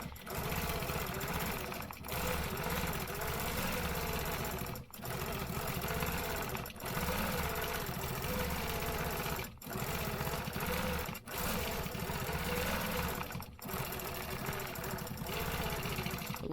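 A long arm quilting machine stitches feathers in a fast continuous mechanical whir, close and steady, broken by a few brief pauses as the stitching stops and restarts.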